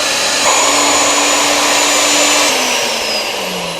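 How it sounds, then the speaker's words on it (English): A magnetic drill gives a steady, loud electric motor whine with a high cutting tone, running continuously and dropping slightly in pitch near the end as it works, at a lighthouse. "In summary, I love the mag drill."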